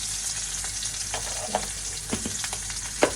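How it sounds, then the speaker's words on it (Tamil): Green chili, curry leaves and cumin crackle in hot oil during tempering, a soft steady sizzle broken by sharp little pops and spatters, fairly quiet and close, with no talking. "எல்லாம் போட்டு தாளிச்சிடும்"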